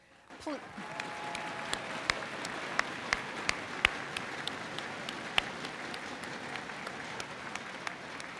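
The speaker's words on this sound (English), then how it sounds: "We applaud all of our Innovation of the Year finalists." Steady, full applause from a college convocation audience honoring award finalists, a dense wash of many hands with a few sharper claps standing out, sustained throughout at moderate distance.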